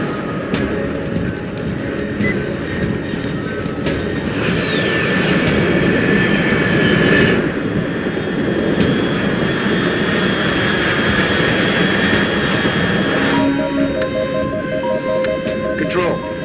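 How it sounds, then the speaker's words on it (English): Jet aircraft flying overhead in the video game Metal Gear Solid Delta: Snake Eater: a steady, loud broadband roar with faint whining tones, continuing throughout with muffled voices beneath. "Control, unidentified aircraft detected"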